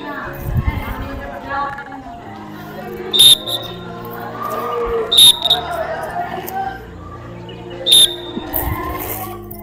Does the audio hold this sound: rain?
no